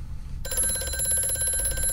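A telephone rings inside the horror game Amnesia: A Machine for Pigs. After a brief quiet opening, a loud, steady electronic ring starts and holds as a bright, sustained tone to the end.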